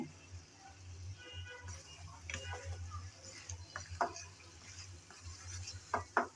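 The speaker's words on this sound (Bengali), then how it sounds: "এভাবে ভাজার সময় চিকেনের থেকে যে পানি বের হবে" Soft sizzling of chicken frying over a very low flame, releasing its water, with scattered clicks and scraping from stirring, fairly quiet throughout.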